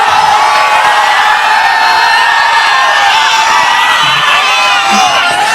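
A large rally crowd for Priyanka Gandhi roars and cheers continuously, a dense, loud wash of voices and whoops sustained throughout without a break.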